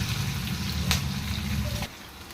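Food frying in a pan while amaranth leaf curry is cooked, a steady close sizzle that cuts off abruptly near the end, leaving a quieter background.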